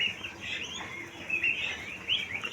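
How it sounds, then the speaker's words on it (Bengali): Egg-laying quails on a quail farm chirp continuously in overlapping high calls, with a few sharper, louder chirps standing out near the end. "এদিকে আছে ডিম পাড়া কোয়েল পাখি"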